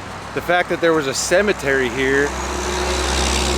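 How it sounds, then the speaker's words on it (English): Rumble of traffic on a main road, with a continuous engine and road drone under a man's speech that swells louder as he stops talking. "sorry for the noise, but like I said, I'm on a main road"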